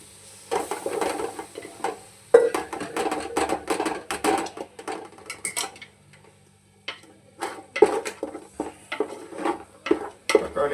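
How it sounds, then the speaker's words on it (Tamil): Spoon scraping and stirring in a metal pan as ground tomato paste goes in for country chicken biryani, with steady clattering and a light sizzle in repeated bursts, pausing briefly midway before resuming. "தக்காளி ஆட் பண்ணிட்டோம்."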